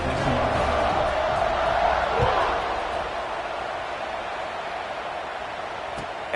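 Stadium crowd roaring at kickoff in a college football video game, Arizona State against Georgia, a dense, steady wash of cheering that fades slightly over several seconds.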